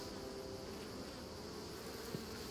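Bees buzz steadily near lavender fields at a villa in Puglia, a continuous close, even drone with no pauses.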